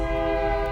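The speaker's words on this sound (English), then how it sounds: "train," A train horn sounds loud and steady with rumbling rail noise underneath, a brief sustained blast lasting under a second with no voices.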